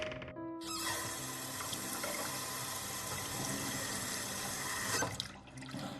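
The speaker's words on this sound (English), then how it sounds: "As the cold water splashes my face, there's a belated flare of pain in my forehead" Running water from a sink in a visual novel video game as cold water is splashed on a face, a loud steady gush that starts abruptly and cuts off near the end.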